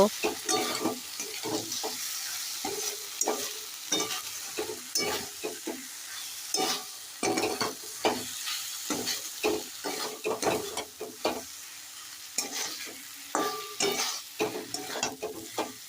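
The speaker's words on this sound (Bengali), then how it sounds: "ম্যাগি মশলা ঢাড়সের মধ্যে দিয়ে দিয়েছি এবার খুব ভালো করে নেড়ে চেড়ে এটাকে ঢাড়সের সাথে মিশিয়ে নেব" Okra fry is stirred in a pan with Maggi masala, giving repeated scraping strokes over a soft sizzle, close and in an irregular rhythm, with no talking.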